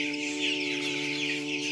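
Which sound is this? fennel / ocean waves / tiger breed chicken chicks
tiger breed chicken chicks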